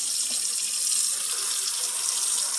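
Tap water runs steadily into a sink to soak a used air fryer basket, a close, continuous splashing hiss with no talk.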